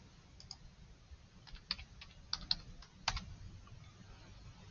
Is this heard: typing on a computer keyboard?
yes